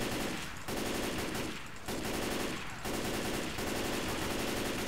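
Sustained automatic gunfire from Left 4 Dead 2 hammers away almost continuously across the clip, with a few brief dips between loud, dense bursts and no talk over it.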